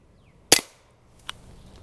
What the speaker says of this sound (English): the first round pop seemed to be louder